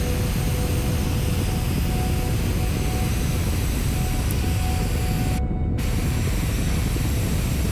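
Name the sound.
afterburner on a submarine in the video game Kerbal Space Program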